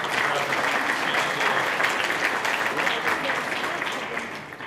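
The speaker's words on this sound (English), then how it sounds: "can you applaud for the President?" A summit audience applauds for the President, a dense, steady roll of clapping filling the hall at a constant level for several seconds before easing off slightly near the end.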